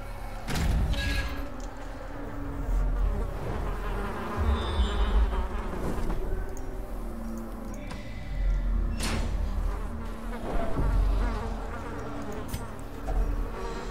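Buzzing insect swarm of the Thronging Hive in the Darkest Dungeon video game, a steady droning hum with scattered rattles and thuds layered over dark ambient game sound.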